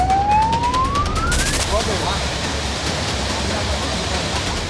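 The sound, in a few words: emergency vehicle siren in traffic, Magelang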